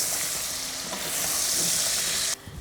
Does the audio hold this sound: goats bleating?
no